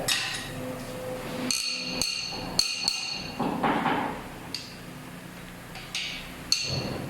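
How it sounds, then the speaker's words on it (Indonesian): Sharp metallic clicks and clanks of tools tightening bolts on a Toyota 2NR-VE engine during assembly, scattered irregularly over a quiet workshop background with no speech. "sekarang kita kencangkan bautnya, yaitu 2 kali 90 derajat"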